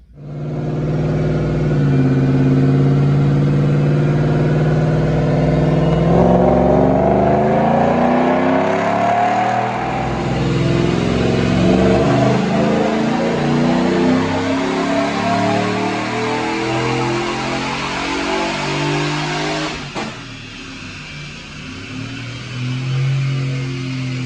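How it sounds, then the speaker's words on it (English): A supercharged 2020 Ford F150 with an Edelbrock supercharger and Roush exhaust making a dyno pull: loud, close engine roar climbing steadily through the revs with supercharger whine, then easing off near the end, with no talk. "We're gonna make a dyno pull"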